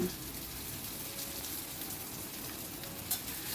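Chopped onion fries in a hot pan with a steady, close crackling sizzle that holds evenly throughout, with no voices.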